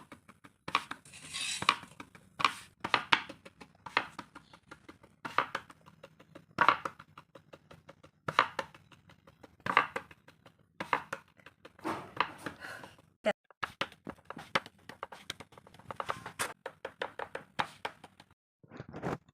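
Hands pat jowar roti dough flat in a steady, irregular run of soft slaps and taps, close and moderately loud, while a person talks throughout.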